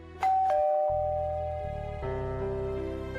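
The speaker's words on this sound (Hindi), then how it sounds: "घंटी बज रही है, जल्दी से जा" A two-tone doorbell chimes, ding then dong, followed by a second ring, the tones lingering as they fade, with a low hum underneath.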